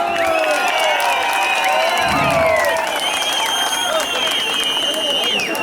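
Large crowd applauding and cheering at a presidential celebration rally in Bilecik, Turkey, dense steady clapping with whoops and shouts throughout, close and loud.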